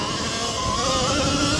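A full-size dirt bike engine drones steadily as the bike rides along a trail, a continuous loud motor hum with slight pitch shifts and no pauses.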